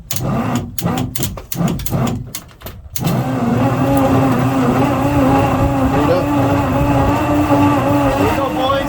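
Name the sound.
old Mopar boat engine being cranked by starter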